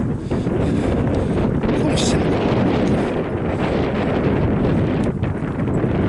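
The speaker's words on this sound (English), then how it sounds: "A bit windy today, isn't it?" Strong wind blowing outdoors at the seafront, a loud continuous gusty roar buffeting the microphone throughout with no clear pauses, and a voice partly buried beneath it.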